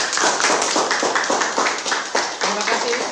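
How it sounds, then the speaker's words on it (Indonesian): A small group claps for a cooking team in a classroom setting, a fast rhythmic series of distinct claps at close range, fairly loud and steady with a quick beat throughout. "Tepuk tangan dong, tepuk tangan."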